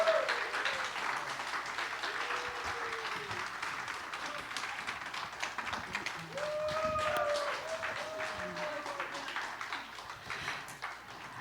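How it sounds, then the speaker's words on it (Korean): An audience in a university chapel service applauds in thanks with steady, moderately loud clapping that lasts throughout. Faint voices and a few tonal sounds come through beneath the clapping. "큰 박수로 다시 한번 감사의 박수 전하겠습니다."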